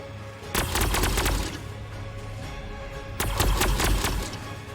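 Bursts of gunfire in Warhammer 40,000: Sanctus Reach, two loud clusters of rapid shots separated by a quieter stretch, with no talking over them.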